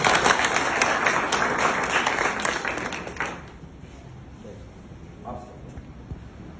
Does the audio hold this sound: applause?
yes